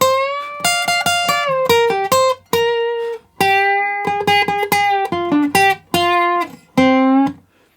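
An electric guitar plays a solo line, sustained, bending notes with short pauses between phrases, clear and up close.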